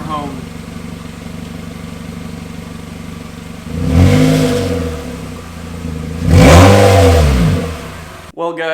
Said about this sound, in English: A few more revs now that we're home